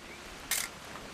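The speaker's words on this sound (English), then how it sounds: "Just want to get a shot of you, Dawn, then we can take off" Camera shutter taking a photo in the video game What Remains of Edith Finch: a single quick, crisp click over a steady background hiss of waves and surf, with no talking.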